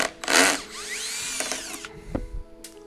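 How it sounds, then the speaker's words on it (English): A power tool whirs in short bursts as screws are backed out of an aircraft inspection plate, followed by small metallic clicks and a knock as the plate is handled, close up with no talking. "I'm gonna take off the inspection plate"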